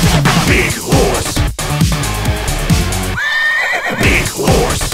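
A loud, close horse whinny rises over a dense music track with a driving beat, the neigh standing out clearly near the middle.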